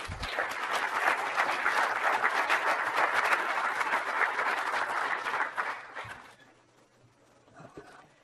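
A conference audience breaks into sustained, dense applause to welcome a speaker, the many hands clapping evenly for about six seconds before tapering off quickly into near silence.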